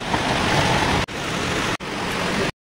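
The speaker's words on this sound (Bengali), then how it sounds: "আর এই যে বালতিতে তেল পড়ছে বন্ধুরা দেখতে পাচ্ছেন।" A mustard oil press machine runs steadily as oil pours into a bucket, a dense continuous rushing wash broken by two brief cutoffs before it stops abruptly.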